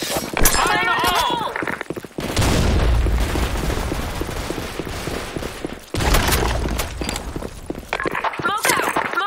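Grenade blasts in a Counter-Strike style match on the Office map, two long booming roars with rumbling, crumbling debris tails, framed by radio-style voice callouts and shouts before and between them.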